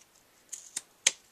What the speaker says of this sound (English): So I'm just going to take my scissors and clip the back off.